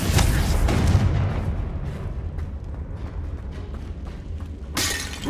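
A fire-spell explosion in the video game Hogwarts Legacy: a loud, close blast with a crackling shattering burst that rumbles and decays over several seconds, followed by a second sharp burst near the end.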